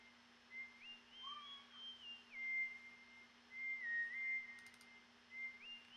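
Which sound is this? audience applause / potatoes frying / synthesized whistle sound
synthesized whistle sound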